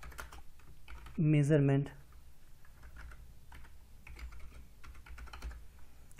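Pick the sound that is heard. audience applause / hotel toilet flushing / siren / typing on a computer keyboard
typing on a computer keyboard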